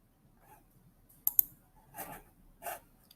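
A computer mouse gives a quick double click, then two softer clicking bursts follow, all close and quiet against near silence.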